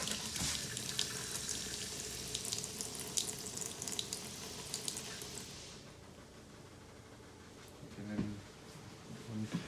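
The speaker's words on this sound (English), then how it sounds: "proceed down to the kitchen area. And the same thing, just open up and allow the antifreeze to flow through" Antifreeze runs from the kitchen faucet of an XLR Nitro RV during winterization, a hissing stream splashing into the sink for several seconds before easing to a quieter trickle with a few soft splashes.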